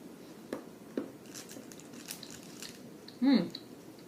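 A bar of Hu raspberry chocolate is bitten into and eaten, with a few soft snaps and crunches close to the mic and some low chewing, all faint.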